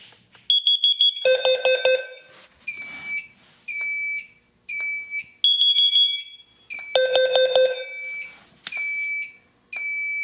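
Fire-Lite MS-9200UDLS fire alarm panel sounding its carbon monoxide alarm: loud, close electronic beeping and tonal horn bursts repeating in an irregular rhythm through the whole stretch, with no talking.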